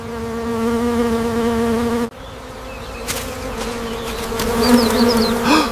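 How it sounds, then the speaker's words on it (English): A dense, steady buzzing of many bees fills the space, continuous and fairly loud, with a brief drop and then swelling again. "Oh no! The bees!"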